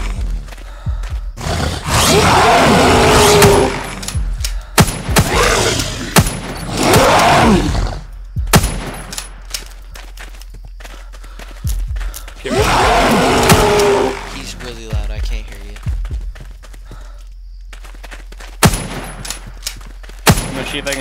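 Gunfire in a monster-hunting video game, with loud extended bursts of shots and scattered single cracks interrupted by quieter stretches, alongside talk.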